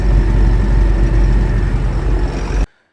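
Steady low diesel drone of a YuMZ tractor fitted with an AGD engine running in third gear, loud and close, heard through the exhaust, cutting off abruptly at the end.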